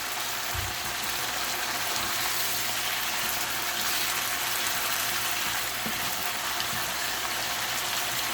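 Chicken pieces fry in a pan for a green chicken curry, giving a constant, dense sizzling hiss close by, with a few soft knocks underneath.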